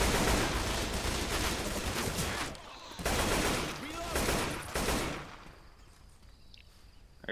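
An AK rifle fitted with a cosmetic skin fires in a video game, bursts of dense rapid gunfire filling the first five seconds with brief gaps, then dropping away to a quieter tail.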